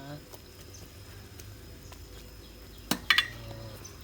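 Mushroom curry bubbling in a pot, a soft steady simmer with a few sharp clinks of a utensil against the pot near the end.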